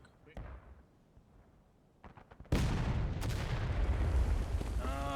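In War of Rights, a massed musket volley bursts out loud and sudden after a quiet lull and a few scattered shots, then lingers in a rolling crackle, with a voice talking around the firing.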